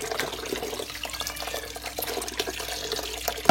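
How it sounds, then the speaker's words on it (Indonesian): Laksa sago noodles being rinsed in clean water, with a steady wash of running and splashing water that fills the clip, moderately close, ending in a brief louder splash. "Kita cuci beberapa kali di air yang bersih"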